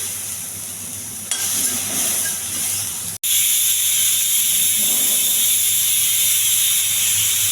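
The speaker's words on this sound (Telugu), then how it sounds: "విజిల్ వచ్చినాయని ఇంకా 2-3 విజిల్స్ రావాలి" A pressure cooker vents steam with a loud, steady hiss that cuts out briefly, then resumes even stronger and continues without letup; no voices.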